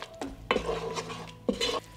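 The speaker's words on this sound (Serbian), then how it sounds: "Promešat ću par sekundi na nižoj temperaturi" Ground red Hungarian paprika being stirred in a pan over low heat, with three short scraping strokes of a utensil against the metal, close and fairly quiet, with a faint sizzle between them.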